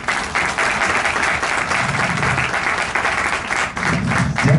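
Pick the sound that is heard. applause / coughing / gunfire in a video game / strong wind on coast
applause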